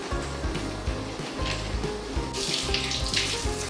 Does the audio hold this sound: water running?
yes